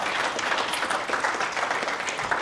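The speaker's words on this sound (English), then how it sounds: "A round of applause for our panelists." A conference audience applauds a panel on bitcoin finance and institutional adoption, a dense, even wash of clapping at moderate level with no gaps or individual claps standing out.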